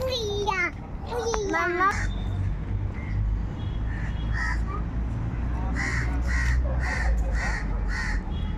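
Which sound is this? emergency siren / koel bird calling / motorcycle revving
koel bird calling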